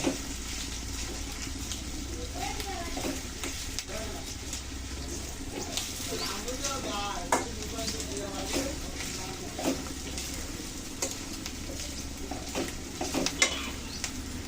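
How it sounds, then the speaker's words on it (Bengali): Chili powder fries in a pan for a curry of large tengra fish with potato and eggplant: a steady sizzle broken by scraping stir strokes, with a voice talking over it. "দিয়ে দিচ্ছে 1 চামচ লঙ্কার গুঁড়ি, ভালো করে ভেজে নিচ্ছি।"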